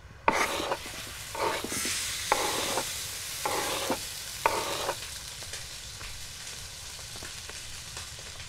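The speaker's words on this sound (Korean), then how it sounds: "올리브유 그리고 재료 넣고 잘 볶고 간을 해주면 간단하게 완성이 될 거야" Ingredients stir-fry in olive oil in the video game Beyond: Two Souls, with a steady sizzle broken by several rhythmic scraping stirs near the start, then a quieter continued frying.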